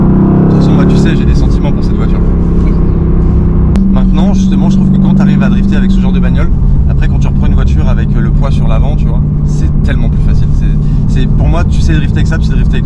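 Mercedes-AMG GT R Roadster with rear-wheel steering drifting, its engine a loud, sustained roar that drops in pitch partway through, with tyre noise and people talking over it.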